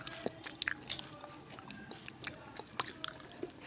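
A homemade snack bitten and chewed near the mic, with soft crunches and wet chewing at irregular intervals, fairly quiet and without talk.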